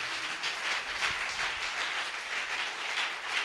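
A church convention congregation in Yamoussoukro applauding the Lord: a dense, steady wash of clapping from a large crowd that holds at an even level throughout, with no voices on top.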